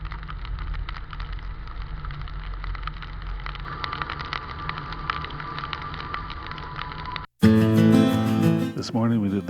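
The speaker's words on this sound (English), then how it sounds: "Unfortunately for us, it was pouring rain when we started." Heavy pouring rain drums steadily on a moving car during a drive on the Tail of the Dragon road, a dense constant hiss with engine rumble beneath, cut off abruptly near the end by a louder different sound.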